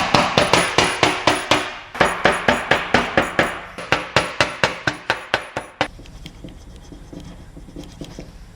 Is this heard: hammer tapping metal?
yes